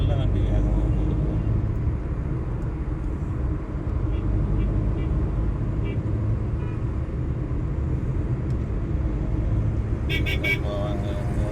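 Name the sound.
vehicle driving fast on road from Salem to Chennai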